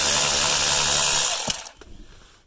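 A power tool whirs steadily while backing out a T25 screw from an interior panel of a Volvo XC90, the motor running continuously before cutting off, followed by a few light clicks and handling noises.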